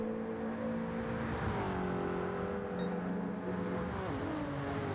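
Race cars powering out of the final turn toward the two-to-go signal on a GTO series circuit, engines droning steadily loud with rising pitch shifts as cars accelerate down the straightaway, no talk.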